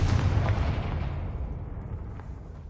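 A fire-spell explosion in the video game Hogwarts Legacy: a loud, booming low-frequency blast that fills the opening and slowly decays into a rumbling tail, with no talk.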